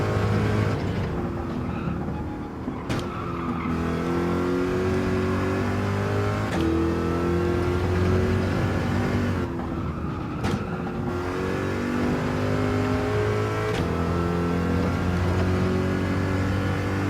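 A car engine in a racing video game revs continuously, rising and falling through gear shifts with a steady, harmonic-rich drone that dips briefly between gears, with no one talking over it.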